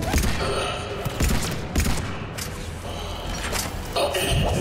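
Dense gunfire from the video game Mass Effect 3 rattles on without pause. Rapid bursts overlap with thuds and mechanical clatter in a loud, busy combat mix, and a voice talks over parts of it.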